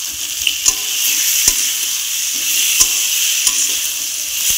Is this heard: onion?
yes